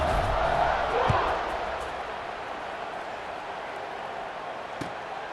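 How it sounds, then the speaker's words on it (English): Football stadium crowd buzzing after a touchdown in a Jacksonville versus Southern Miss game, a steady distant roar that fades slightly after the first second, with a couple of faint thumps. "this crowd is buzzing after that last score"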